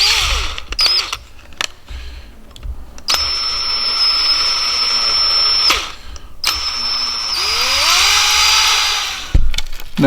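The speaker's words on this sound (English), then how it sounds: "So all I'm gonna do is just take a drill, really it should be a Dremel" A hand drill bores out a small notch in a homemade lure retriever, a steady high whine running in two long bursts with short gaps and brief clicks between, close and loud with no talk.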